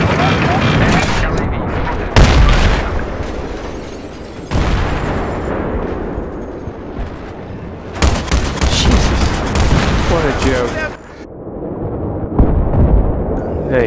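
C4 charges blowing up an enemy tank in Battlefield 3 on the Gulf of Oman map, set among heavy gunfire; loud, close booming detonations and bursts recur throughout, with ringing decay between blasts.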